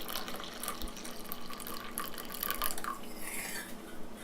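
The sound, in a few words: milk being poured into a cup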